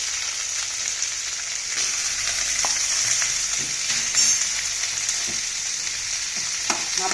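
Tomatoes sauté in a pan as grated coconut is added, giving a steady sizzle and frying hiss with occasional stirring scrapes and clinks, close and continuous, with no voices.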